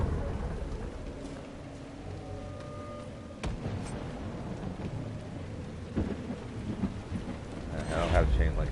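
Thunderstorm with steady rain in the video game Dragon Age: Inquisition, a constant wash of rainfall with low rumbling thunder swelling in bursts near the middle and end.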